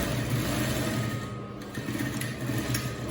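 A sewing machine runs a shirt cuff seam in one steady, continuous motor whir with a faint rhythmic stitching chatter, close and alone, easing slightly midway before carrying on.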